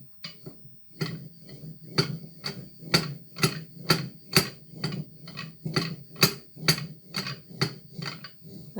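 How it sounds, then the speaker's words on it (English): Steady back-and-forth strokes of a bow drill boring a hole into a moonstone leaf ring, a rhythmic series of sharp ticking taps roughly two per second, close and fairly quiet with no voices. "I use a very ancient tool which is called the bow drill"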